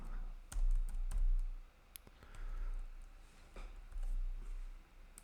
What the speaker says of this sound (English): something weird is going on with my keyboard.